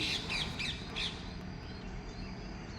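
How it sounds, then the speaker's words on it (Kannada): Parrots squawking in a tree, four sharp, shrill calls in quick succession at moderate distance, then fading into quiet outdoor ambience. "ಹಾಗೆ ಡೈಲಿ ಪ್ಯಾರೆಟ್ಸ್ ಕೂಡ ಬರ್ತಾ ಇರುತ್ತೆ"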